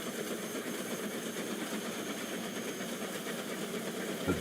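A steam train engine in the video game Transport Fever 2 rumbles and hisses in a steady, continuous drone, moderately loud with a faint rhythmic chuffing texture and no voices.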